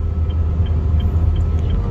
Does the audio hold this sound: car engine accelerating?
yes